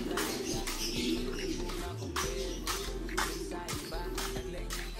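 Pigeons coo in a loft, with repeated soft low coos over a busy background of bird chirps and rustling. A faint voice is heard at times.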